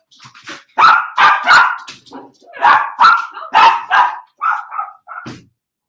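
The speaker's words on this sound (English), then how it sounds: "It's a tiny fluffy dog, but he likes to have a big voice." A small fluffy dog barks close up, about ten sharp, loud barks in quick bursts with short pauses between them.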